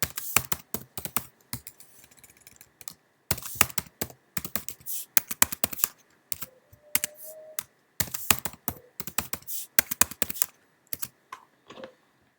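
Rapid clattering keystrokes on a computer keyboard as a password is entered, coming in quick bursts separated by brief silent pauses, close and crisp.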